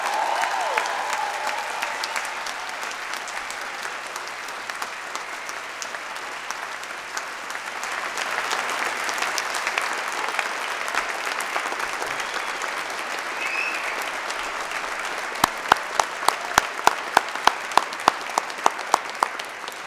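Sustained audience applause at a university graduation ceremony, a steady dense wash of clapping from a large hall that swells slightly midway, with a few sharp, louder claps standing out near the end.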